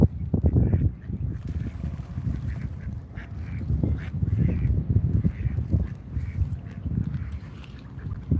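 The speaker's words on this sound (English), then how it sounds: "Count how many ducks there are." Ducks quacking outdoors in Washington DC on a cloudy evening, a flock calling in steady, overlapping bursts close by for the whole stretch with no talking.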